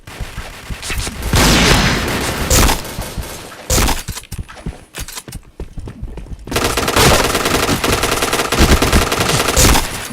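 Rapid machine-gun bursts and gunshots fill a video game firefight, loud and close, with dense volleys, a brief lull in the middle, then sustained fire again.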